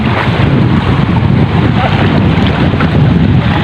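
Strong northeast monsoon (amihan) wind buffets the microphone in a steady, loud roar, with a broad rush of air over what sounds like open water during fishing.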